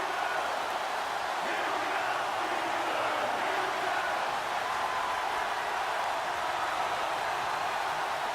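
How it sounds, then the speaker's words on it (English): Steady crowd roar from a Madden NFL 18 football game stadium ahead of a big third down, a continuous broad wash of cheering and noise holding at a fairly even level throughout, with no commentary over it. "the crowd getting into it as we come up on a big third down"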